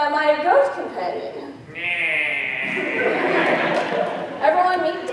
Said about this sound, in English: We are also joined today by my goat companion.